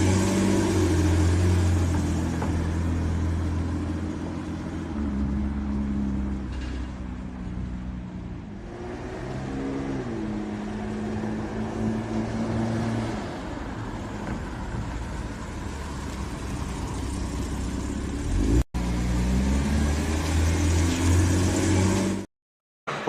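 Classic Daimler car engine running steadily at an auction, a low mid-pitched idle with some rumble and roadway-like noise, fairly close and continuous with little talk over it.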